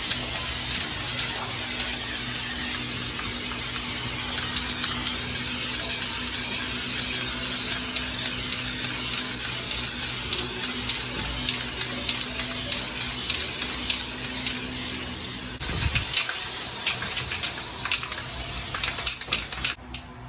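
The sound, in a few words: spraying Flex Seal onto a floor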